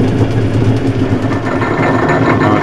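A prototype lathe countershaft turns at its slowest speed with the back gear engaged, giving a steady, close, low mechanical drone with a faint rhythmic pulse throughout.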